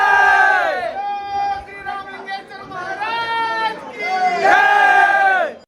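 Dense festival crowd at the Navalgund Ramalingeshwara Kamanna temple, a loud continuous surge of many voices shouting and calling out together, swelling and dipping across the stretch with rising cheers near the end.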